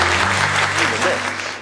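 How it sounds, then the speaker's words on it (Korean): Students at a Korean War history lecture in Daegu clap for war heroes in a short, loud burst of audience applause, with a low hum and a few voices murmuring underneath. "그분들을 위해서 박수 한번 크게"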